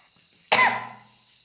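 A single sharp cough bursts out and fades quickly over a faint steady hum.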